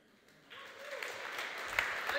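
An audience at a startup pitch competition breaks into applause after a founder's pitch, a dense clapping that begins about halfway in and builds to a steady, moderately loud wash with no speech.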